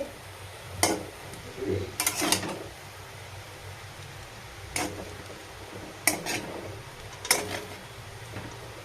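Chow mein noodles are stirred in a pan, sparse metallic clinks and scrapes of a utensil against the pan at irregular intervals over a quiet kitchen background.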